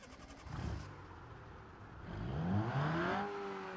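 A Lancer's engine in BeamNG.drive cranks and turns over, then settles into a deep, rising rumble with a revving tone, moderately loud and close.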